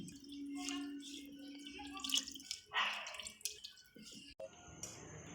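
Water poured and splashing while a grinding stone is rinsed during home cooking, with dripping, gurgling and sloshing that starts and stops unevenly, close and moderately loud, alongside a steady low hum and kitchen clatter.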